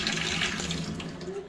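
Tap water runs steadily and close while a face is being washed, a continuous splashing hiss with faint voices underneath.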